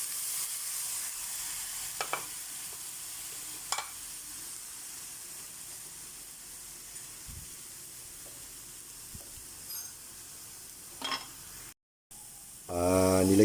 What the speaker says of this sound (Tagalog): Nilagay ko na rin po yung ampalaya para masama na sa gisa